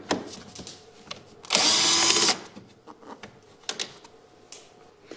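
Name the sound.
power tool unscrewing a screw with an 8 mm socket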